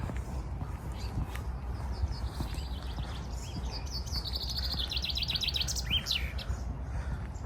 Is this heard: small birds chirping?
yes